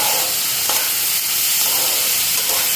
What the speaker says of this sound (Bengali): এদিকে ভাজাটা বসাই দিলাম,